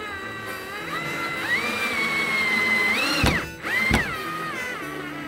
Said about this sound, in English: I'm pressing against the glass with a drill